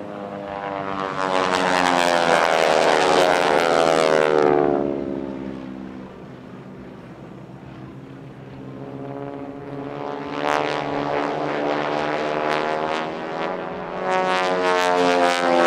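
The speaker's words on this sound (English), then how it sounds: "They fly the AT-6 Texan, with AT standing for Advanced Trainer." A North American AT-6 Texan propeller trainer flying passes at an airshow, a loud buzzing radial engine with strong harmonic drone that fades after a few seconds and returns loud again for later passes.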